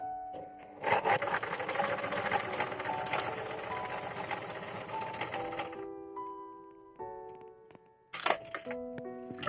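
Sewing machine stitching a side slit in fabric: a dense, rapid mechanical clatter runs for about five seconds, then stops, followed by a few clicks and a short final burst of stitching, all close up with no talking.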